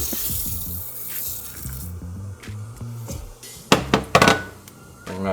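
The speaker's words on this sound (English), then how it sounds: "Rice going in, just normal jasmine rice." Plain jasmine rice poured into a pot of boiling water and coconut milk for coconut rice: a steady watery rush and bubbling with a cluster of louder splashy bursts near the end.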